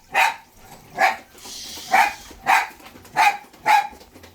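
Six short, evenly spaced yaps from puppies, each bright and fairly close, with no talking over them.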